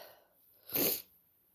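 A single quick, soft sneeze from a cat, sharp and breathy, in an otherwise quiet room.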